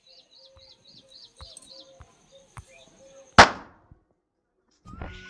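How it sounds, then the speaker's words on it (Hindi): A single sharp firecracker bang cracks out during Holi celebrations at home, loud and close, with faint birds chirping and scattered small knocks around it and a murmur of talk afterward. "होली के त्योहार पे हमारा बिहान पटाखे चला रहा है।"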